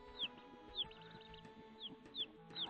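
Baby chickens peep softly, with several short, high, descending chirps repeating irregularly over a faint, low background hum.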